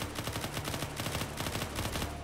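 Rapid automatic gunfire from the video game Unturned, on a PvP server, rattling in dense repeated bursts that fill the whole stretch at steady loudness, with no talk over it.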